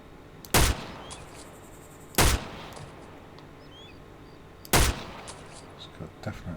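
Three sharp, loud rifle shots ring out one at a time from a weapon in the DayZ video game, spaced a couple of seconds apart, with a softer pop near the end.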